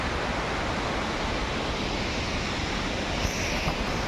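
Falling water at Putudi waterfall near Phulbani, Kandhamal, roars as a loud, dense, unbroken rush that fills the whole stretch.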